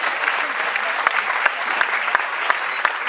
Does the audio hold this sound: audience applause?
yes